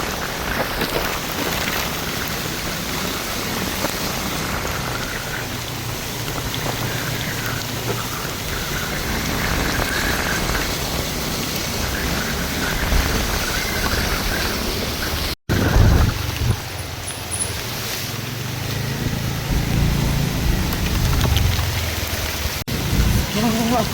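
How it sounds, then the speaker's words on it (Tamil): Heavy rain pours steadily in Indonesia, a dense continuous hiss, with a brief break partway through and some talk mixed in underneath. "மழை வந்து அப்படி பெய்யுது ஓ அடிக்க குத்தி பெய்யுது"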